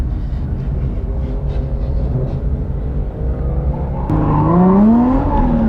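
Drift car driving fast, a sustained engine roar that suddenly climbs in pitch as it accelerates hard near the end, loud and continuous with no talking.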